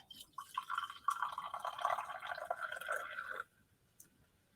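Carbonated limeade pours steadily into a glass for about three seconds with a fizzy, bubbling gurgle, then stops, followed by a single faint drip.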